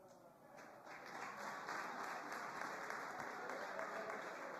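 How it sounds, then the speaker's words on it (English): An audience clapping for a young man named David, a steady wash of applause that swells after a brief start and holds evenly, heard faintly from a distance in a large room. "Please clap for him."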